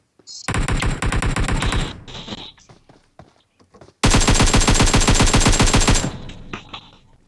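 Loud automatic gunfire in PUBG Mobile comes in two long rapid bursts separated by a short gap, each a fast rattling stream of close shots.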